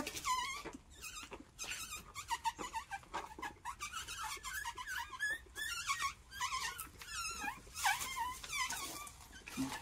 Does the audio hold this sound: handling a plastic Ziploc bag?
no